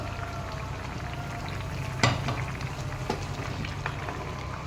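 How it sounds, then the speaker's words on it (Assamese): Fish curry with cauliflower being stirred in a sizzling pan, steady frying hiss with a few scraping clinks of the spoon, close and fairly quiet. "এইফালৰ পৰা এনেদৰে তল-ওপৰ কৰি লৰাই দি দিছোঁ।"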